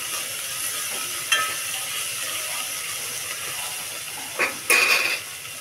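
Biryani rice ingredients fry in a pot with a faint steady sizzle, broken by a few sharp metallic clicks and scrapes from a utensil against the pot, close and with no voices.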